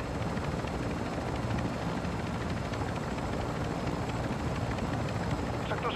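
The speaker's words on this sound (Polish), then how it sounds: "helikopter leci na oparach" A helicopter flying in Call of Duty: Modern Warfare II, a continuous dense rotor and engine roar that stays steady and fairly loud for the whole stretch.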